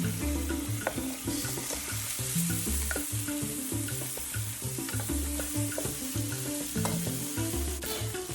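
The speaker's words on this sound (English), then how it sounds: "You're just really going to want to brown your pork chops." Pork chops browning in a pan over medium-high heat give a loud, dense, continuous sizzle, broken by frequent scrapes and clatters of stirring and turning.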